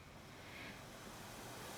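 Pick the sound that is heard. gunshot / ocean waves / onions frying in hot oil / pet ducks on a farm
ocean waves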